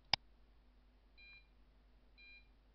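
Computer beeps from a Visual Basic program: one sharp, loud click-like beep at the start, then two faint, thin electronic tones about a second apart over low hum.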